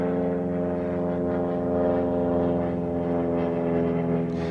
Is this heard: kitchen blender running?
no